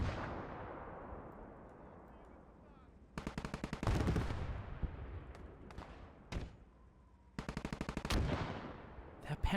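Machine gun fire in the Gates of Hell war game comes in rapid bursts, each a tight string of sharp cracks, separated by pauses and a few single shots, with distant battle rumble beneath.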